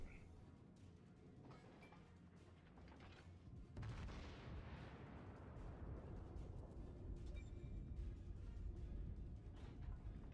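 Naval guns firing in World of Warships, a deep booming blast that swells and rumbles on after about four seconds over steady battle noise.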